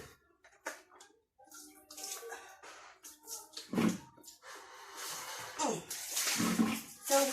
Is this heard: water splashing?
yes